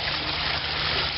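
Water pours out of a Shop-Vac wet vacuum as it drains, a loud, steady gushing rush with no break and no voices.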